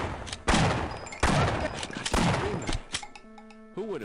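Three heavy shotgun blasts from a video game boom in a slow, evenly spaced rhythm, each loud and sharp with a trailing echo, followed by electronic game tones.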